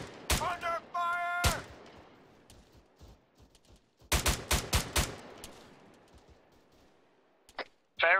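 Arma 3 video game gunfire: sharp bursts and single shots crack loudly in quick clusters, with a dense volley in the middle and a voice speaking briefly near the start and the end.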